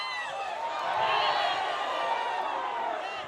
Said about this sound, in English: Crowd wanting a call there.